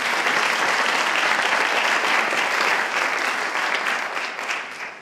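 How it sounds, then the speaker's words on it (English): Steady audience applause at an evening meditation talk, a dense even wash of clapping that holds strong before tapering off at the end. "we can certainly give applause"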